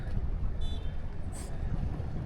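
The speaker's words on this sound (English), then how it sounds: "An old engine." An old engine runs at an abandoned marina in Ermoupoli on Syros, a close, low, steady rumble with a faint high whine partway through.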